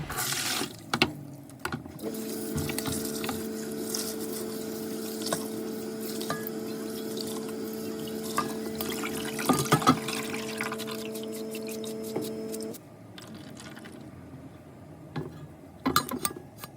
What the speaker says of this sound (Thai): ซาวน้ำแล้วก็นำไปเทใส่ในกระชอนให้เสด็จน้ำไว้ก่อน